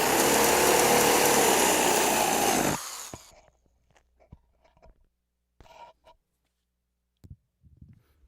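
A power drill runs fast through a piece of wood, captured by a contact mic: a loud, harsh, grinding burst for under three seconds, then it stops abruptly, followed by quiet scattered knocks and handling noises.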